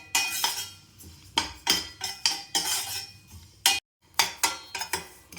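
Idli podi spices and lentils dry-roasted in a pan over low heat, a metal spoon scraping and clinking against the pan in irregular bursts with short pauses, close and clear.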